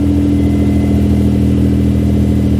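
Steady, loud engine note from a car fitted with a twin side-exit exhaust, its muffler valve open, running continuously with a throaty low rumble and regular pulsing throughout, with no talk.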